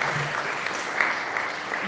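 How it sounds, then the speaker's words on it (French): Congregation applauding in a church after the adult choir joins the youth choir, a steady wash of dense clapping that holds evenly throughout with no voices above it. "Applaudissez pour vous."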